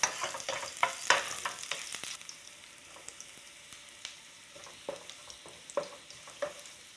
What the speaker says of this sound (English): Frying garlic ginger already make this house smells good.